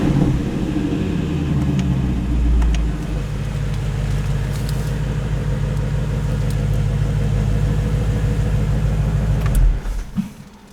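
A 2017 Ford Mustang GT350 idles in sport mode with its active exhaust open, a steady, loud, throbbing low rumble heard close by, with a few light clicks before it fades at the end.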